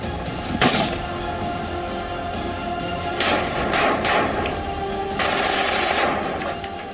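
Rapid gunfire from a Turkish-made pistol with a 15-round magazine, sharp bursts of shots against a dense noisy background, loud and close with no speech.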